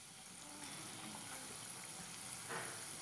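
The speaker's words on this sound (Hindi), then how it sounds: "दूसरी साइड से भी समोसों को फ्राई कर लेंगे" Chicken and potato samosas frying in ghee, a faint, even, continuous bubbling hiss that holds steady throughout with a slight swell near the end.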